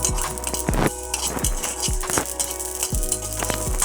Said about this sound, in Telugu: మాడిపోతాయి కాబట్టి విడివిడిగా వేయించుకోవాలి ఇప్పుడు ధనియాలు కొబ్బరి గసాలు